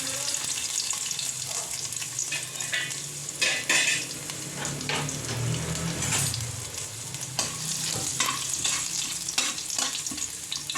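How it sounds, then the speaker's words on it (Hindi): Garlic and fenugreek sizzle steadily in hot oil, a continuous crackling fry with occasional stirring scrapes, close and fairly loud, with no voices. "मेथी ऐड करने के बाद इसमें लहसुन जो 4-5 कलियां हमने रखी थी वो हमें ऐड करनी है"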